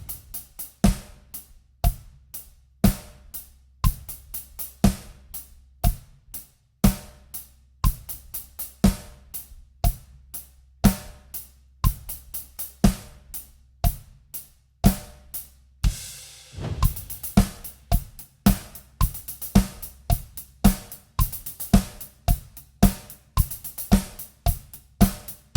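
A full drum-kit groove repeating steadily, with kick and snare under even sixteenth-note hi-hat strokes; crisp and close, no voices.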